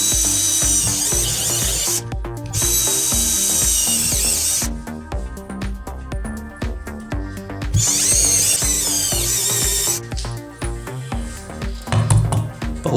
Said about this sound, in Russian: Сверлим насквозь. Также просверливаем и с другой стороны.